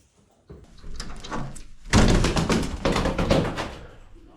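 The back door of a UK house under renovation is opened. Soft handling noises are followed by a louder run of clattering thumps and rattles as the door swings open, close by.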